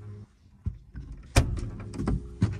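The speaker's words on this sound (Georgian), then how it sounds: "აი ეს სახელურია, უნდა გამოვკაჩო და კარები უნდა გაიხსნას" A car door handle is pulled from inside the trunk, giving several sharp mechanical clicks and clunks of the latch and door releasing, close and distinct in a quiet space.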